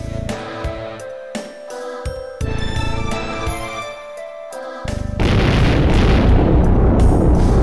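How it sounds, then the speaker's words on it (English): A loud explosion in the video game Tales of Symphonia starts with scattered booms over music, then grows into a dense, sustained roar that fills the final seconds. "It's going to explode."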